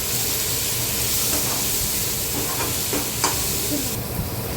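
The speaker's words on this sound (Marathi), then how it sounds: "टोमॅटोही व्यवस्थित परतून घ्यायचे कांद्यासोबत" Tomatoes and onions being sautéed in a pan, a dense continuous sizzle and hiss up close with a few scraping stirs, no talking.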